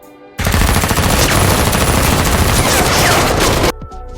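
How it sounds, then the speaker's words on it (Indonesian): Sustained rapid gunfire from a film shootout, a loud dense burst of machine-gun and rifle fire lasting about three seconds, close and continuous, then cutting off abruptly to quieter background. "Chen-Woo menyuruh beberapa anak buahnya untuk menembak Aryan."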